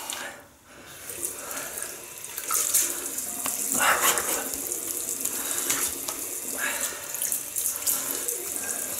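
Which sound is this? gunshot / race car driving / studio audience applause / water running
water running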